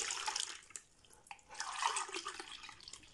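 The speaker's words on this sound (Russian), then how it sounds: "Вода теплая, подогретая. 2 стакана я вылила." Warm water pours from a glass into a bowl for dough, an uneven splashing trickle in short bursts with a louder, fuller pour toward the end, close up and without speech.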